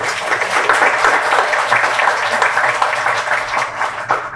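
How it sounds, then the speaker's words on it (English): A school audience applauds seniors at a student-of-the-month ceremony, steady dense clapping filling the room at close range for several seconds with no one talking over it. "let's just give one more round of applause to our seniors this morning"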